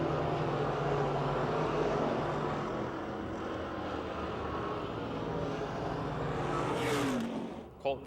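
Race cars roaring around the oval at Pennsylvania Motor Speedway in Pittsburgh, a loud sustained engine drone running side by side through the turn, with a commentator talking over it.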